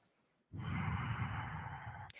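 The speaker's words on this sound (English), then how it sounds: "Twist as you exhale." A long, steady exhale during a seated yoga twist in a vinyasa power yoga class, a breathy rushing sound that lasts about one and a half seconds, close and fairly loud, then stops abruptly.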